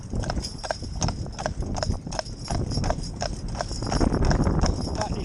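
A young Shire horse trots, its heavy hooves clip-clopping in a brisk regular rhythm, close and clear, while a person talks intermittently over the steps.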